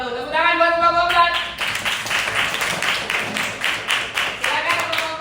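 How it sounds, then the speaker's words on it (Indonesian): A classroom of students claps for a presenting group, with rhythmic, fairly close clapping. A voice speaks at the start and again near the end. "Tepuk tangan buat kelompok 4"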